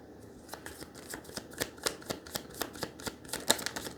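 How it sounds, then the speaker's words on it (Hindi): Cards from a yes-or-no deck being pulled and shuffled by hand, a quick run of crisp, close flicks and snaps of card stock for a few seconds, with no talking. "let's see, let's pull the cards from yes और नो डेक"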